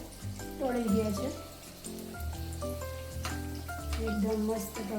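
Dabda bhajiya fritters frying crisp in hot oil, a continuous sizzle with bubbling pops, heard close under a person's speaking voice.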